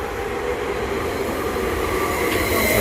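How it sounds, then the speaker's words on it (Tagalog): A train rumbles steadily into a theme park station, a continuous close roar of wheels and rail with a brief faint squeal near the end, no voices. "Ayan ang train."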